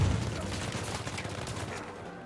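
Sniper gunfire during combat in the video game Uncharted 4, a dense rumbling crackle of shots opening with a loud burst and then continuing as a steady wash of distant fire, with no clear talk.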